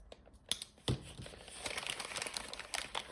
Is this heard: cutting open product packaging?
yes